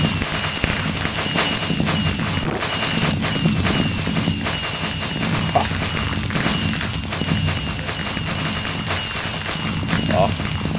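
A dense barrage of crackling and popping New Year fireworks fills a Minecraft server celebration, loud and continuous, with people talking over the bursts.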